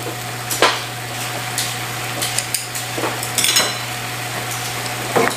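Mala noodle soup with bok choy boiling in a pot, giving a constant bubbling hiss broken by scattered clinks and taps of a utensil against the pot.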